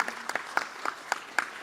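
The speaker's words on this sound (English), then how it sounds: "Let's have a big round of applause for ICI for AI initiative." A small audience at a business round-table meeting applauds the ICI AI initiative with sparse, distinct hand claps in a loose, uneven rhythm, moderately close and brief.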